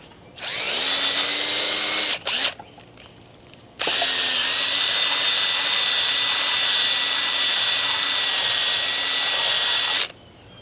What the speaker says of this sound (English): Just gonna use a wire brush and a drill.